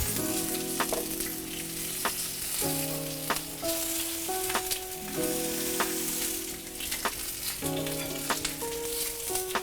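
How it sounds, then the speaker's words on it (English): Seasoned eggplant slices sizzle on a hot outdoor grill, an even crackling hiss with occasional sharp pops, heard over steady tonal background music with no speech. "we're ready to add the eggplant to the grill"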